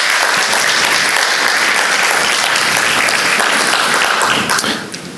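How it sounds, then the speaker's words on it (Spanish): Conference audience applauding in a hall in Cartagena, dense steady clapping from many hands filling the room, continuous and loud, tapering off at the very end. "les pido un aplauso para ustedes,"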